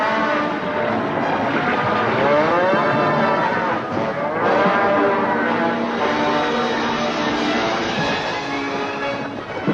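A herd of cattle crossing a river, driven toward a shallow bank, with loud overlapping mooing and bellowing close by, continuous throughout over a low rumble of water and movement.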